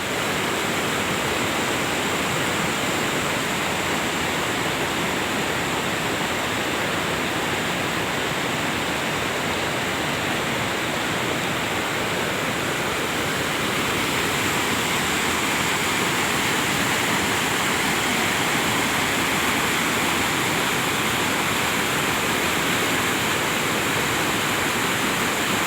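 Rain-fed lahar floodwater rushes down from the slopes of Semeru volcano, a loud, steady roar of turbulent water that continues without a break.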